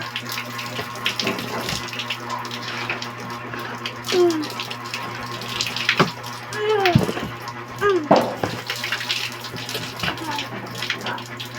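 Lots of water flowing down a roof gutter outdoors, a steady broadband wash continuing throughout at moderate level, with brief bird chirps and a few clatters over it.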